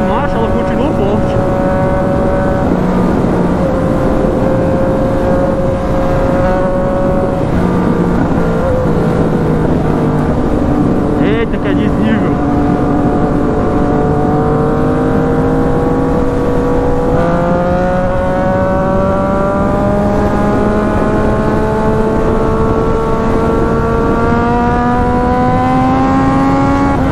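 A Yamaha MT-09 motorcycle engine pulls hard and climbs in pitch through the gears, dropping briefly at each shift before rising again, steady and close for the whole stretch.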